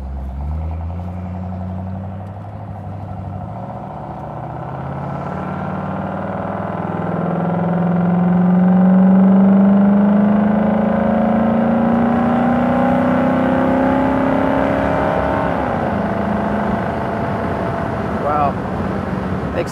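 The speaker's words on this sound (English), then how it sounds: "It definitely is a very snappy 289." A 1967 Mustang GTA convertible with a 289 V8 accelerating onto the highway: a loud, close engine note climbing steadily through the gears, then settling into a sustained cruising drone with wind and road noise.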